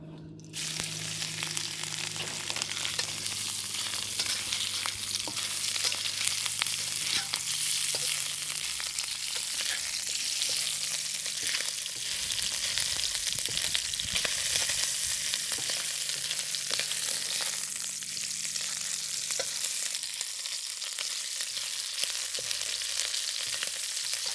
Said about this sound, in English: I'm going to stir fry the shrimp first.